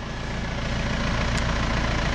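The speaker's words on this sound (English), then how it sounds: "So the Ford 7600 is on its way out with the PZ hay bob on the back end." A Ford 7600 tractor runs with a PZ hay bob hitched on the back, its heavy diesel engine giving a loud, steady, close rumble throughout with no talking.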